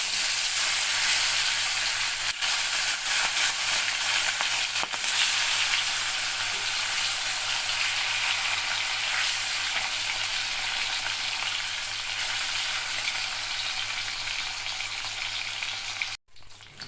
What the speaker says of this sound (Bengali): মাছগুলোকে আমি হালকা করেই ভেজে নেব। ইলিশ মাছ বেশি ভাজলে ভালো লাগে না।